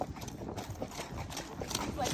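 Hooves of a gaited horse named Mystery clop in a quick, uneven beat while trotting, quiet and mixed with light background noise.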